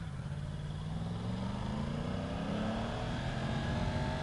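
A 2020 Yamaha R1M motorcycle under way, its engine note climbing steadily as it accelerates, with loud, continuous wind rush over the ride.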